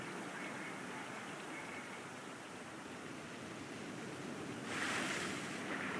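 Steady wash of waves breaking on a shore in the dark puzzle-platformer LIMBO, a continuous soft surf hiss with a slight swell near the end, no voices.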